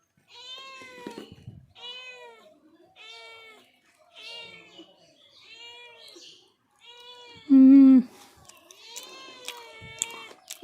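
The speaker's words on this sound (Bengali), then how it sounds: "পিচ্চিটা ম্যামে করছে।" A small kitten meows repeatedly, close and clear, about eight calls in a loose rhythm, one louder and longer near the end, with short quiet gaps between them.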